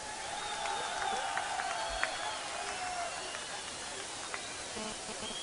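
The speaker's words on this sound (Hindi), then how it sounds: "तालियों के साथ।" A crowd applauds steadily at a political rally in Srinagar, with dense, continuous clapping and faint voices mixed in throughout.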